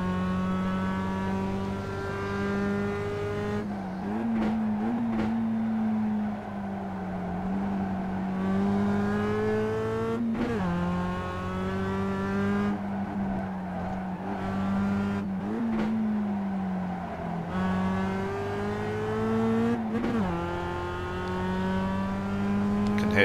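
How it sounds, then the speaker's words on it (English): Race car tyres squealing through a sequence of corners in the iRacing video game, long pitched squeals rising and falling over a continuous engine drone, with several bursts of higher revving across the stretch. "Here the tyres pretty much squealing all the time through that sequence of corners"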